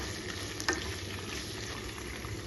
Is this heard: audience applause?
no